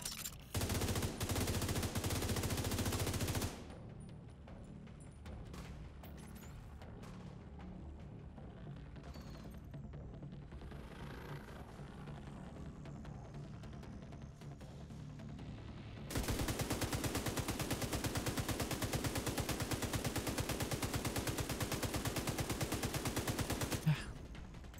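Sustained automatic gunfire from The Division 2 in hardcore mode, dense and loud in two long bursts at the start and end, with quieter shooting and game noise in between.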